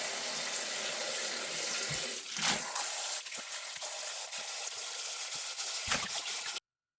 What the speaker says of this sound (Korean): 식초에 담궜던 양배추는 세네 번 깨끗하게 헹궈 주겠습니다.